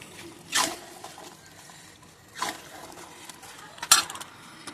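A spoon scrapes and clanks against a cooking pot while chicken is stirred, three separate bursts of metallic scraping with quiet gaps between, close by.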